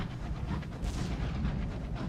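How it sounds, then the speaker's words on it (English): Gunfire from fighting in the game Sunless Skies, a muffled, rumbling burst of distant shots and booms rolling together over a couple of seconds. "Only 5 gunshots, though"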